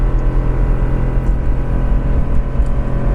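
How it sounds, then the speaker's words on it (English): A Ford truck engine, a 6.2L V8 Raptor or F-250, drones steadily while towing a trailer, a loud continuous low rumble with road whir and no clear break in level as it downshifts. "There it goes, it just downshifted."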